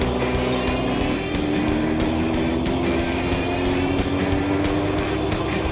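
A 25-year-old Dawson Motor Company (DMW) motorcycle engine runs steadily and close by, a continuous droning hum with no talk over it.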